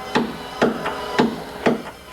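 Steady hammering in a piano restoration workshop at the New York Piano Center, four evenly spaced, fairly close knocks on wood about half a second apart, with no voices.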